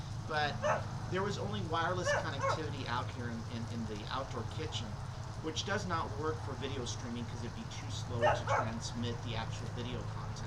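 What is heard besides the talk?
dog barking outdoors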